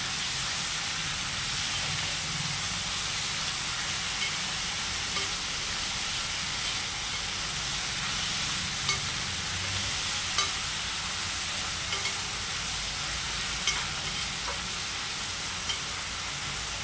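Finely chopped amaranth greens frying in a pan for a Telugu-style curry, a steady loud sizzling hiss with faint scraping stirs running throughout, no voices.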